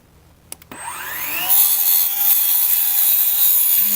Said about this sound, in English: I love cutting aluminum with a carbide blade because it's quick